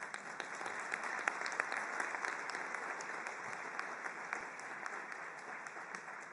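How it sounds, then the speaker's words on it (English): Delegates at a UN refugee meeting in Geneva applaud the interpreters, a broad sustained patter of many hands clapping in a large hall, even and continuous, heard from a distance at moderate volume. "I think we should give them an applause."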